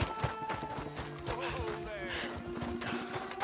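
Horses gallop in Red Dead Redemption 2, a quick rhythmic clip-clop of hooves with a brief whinny, mixed under game music, effects and voices calling out during a chase.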